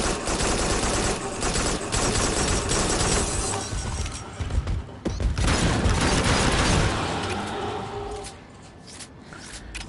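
Rapid automatic gunfire from the gun in the video game Farpoint rattles in dense, sustained bursts that stay loud and close and then ease off near the end.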